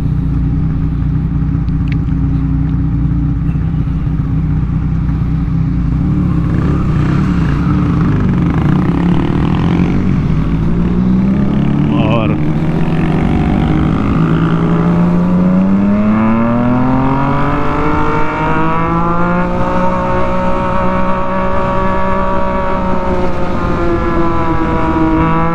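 A car engine rumbles and revs up, its pitch rising smoothly as it accelerates, loud and close throughout with no voices.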